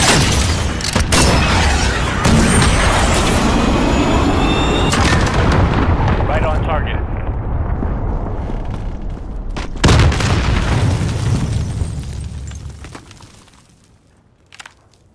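A cruise missile launch in the video game Call of Duty Modern Warfare, a loud, sustained rumbling roar with booming blasts that runs for several seconds, then a second surge before fading out, with a voice speaking over it.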